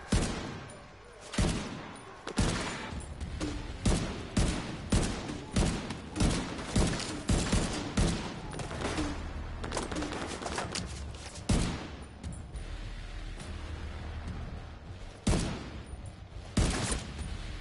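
Rifle fire in the shooter video game The Division 2, bursts of sharp loud shots in rapid runs with short pauses, dense volleys early on, thinning into scattered bursts and echoing tails toward the end.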